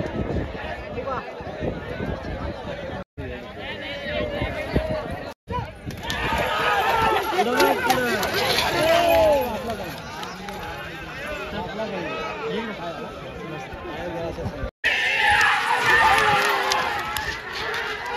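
Dense crowd hubbub at a busy outdoor gathering where vehicles are being sent off, a steady wash of many overlapping voices with scattered shouts, loud and continuous throughout with a few brief cutouts.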